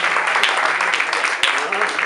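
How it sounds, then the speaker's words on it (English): Steady crowd applause at a campaign rally of supporters for a candidacy announcement, a dense continuous wash of clapping with a few distinct claps, loud throughout and mixed with cheering voices. "Round of applause."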